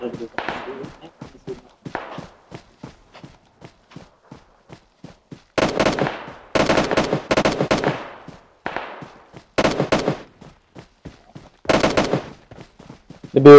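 Gunfire in the mobile battle royale game PUBG Mobile during a squad match: scattered sharp shots early, then several loud rapid bursts of automatic fire spaced across the span, with a player's voice talking under the shooting.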